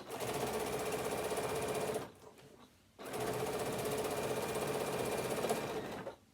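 A sewing machine stitches steadily on a tablet holder project, running loud and close in two long bursts split by a brief pause, with the thread snapping.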